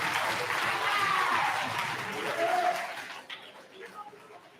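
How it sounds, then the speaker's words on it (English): A middle school awards ceremony crowd gives sustained applause for the award winners, fairly loud at first, then fading away with a few scattered claps and faint murmurs. "Let's give Mr. Jacoby's award winners a big round of applause."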